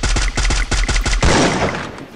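Rapid burst of about seven gunshots in a shooting video game, sharp and evenly spaced, followed by a louder final blast that trails off into a decaying rumble; no talking.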